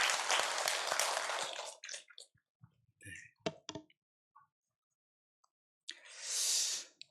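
Church congregation applauds visitors during a Sunday service, a burst of dense clapping that lasts under two seconds and trails off into scattered claps and quiet, followed by a brief later noise.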